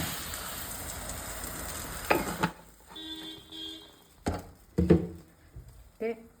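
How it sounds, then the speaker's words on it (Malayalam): Coconut oil in a frying pan sizzles in bright bursts while a Kerala mushroom curry is being prepared. Quieter gaps and a few sharp clatters and pops come between the bursts. "കുറച്ച് വെളിച്ചെണ്ണ ഒഴിക്കട്ടെ"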